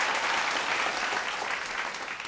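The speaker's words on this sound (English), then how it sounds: "Round of applause, please, for the Cosmopolitan and all their support" An audience at a vocal battle competition show claps for a venue partner, the Cosmopolitan. Dense, continuous applause runs throughout and tapers slightly toward the end.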